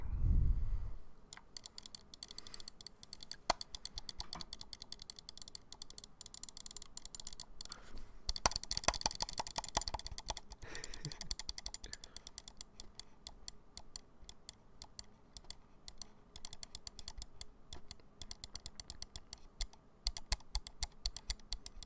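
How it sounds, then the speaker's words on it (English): A computer mouse clicks in an ASMR recording, with quiet, crisp clicks repeating rapidly and close to the mic for about twenty seconds, including a denser burst partway through, with no talking. "I have my mouse clicking"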